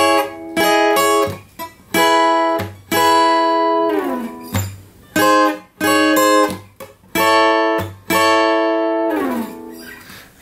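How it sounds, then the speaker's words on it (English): Lead guitar line for the verse, played alone as a series of clear picked melodic phrases with ringing notes and short gaps between them, close and loud, with no voices. "the lead guitar part for the verse sounds like this"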